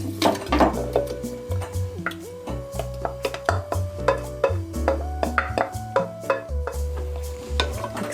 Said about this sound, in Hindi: अब इसमें हम मैरिनेट किया हुआ चिकन डाल देंगे।